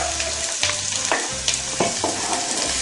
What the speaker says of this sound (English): we're going to put all the onions that we cut into the hot oil